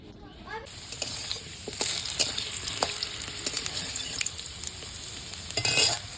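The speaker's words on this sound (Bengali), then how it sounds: "আলুটা ভেজে নিয়েছি, ওর উস্তে পটল দিয়ে দিয়েছি, এগুলো ভাজতে হবে।" Potatoes, bitter gourd and pointed gourd fry in oil while being stirred in a pan, giving a steady close sizzle with scraping and clicking stir sounds and a louder burst near the end.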